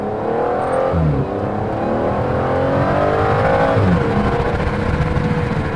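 An Aston Martin V12 Vantage engine revs loudly and close by, its deep roar rising and falling in long sweeping surges, with no talking over it.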